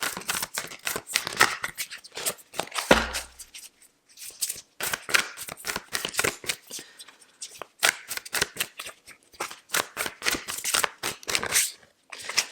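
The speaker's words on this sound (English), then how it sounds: "A couple more shuffles." Tarot cards being shuffled by hand, heard up close as rapid riffling bursts and soft slaps repeating in quick, uneven runs with brief pauses between them.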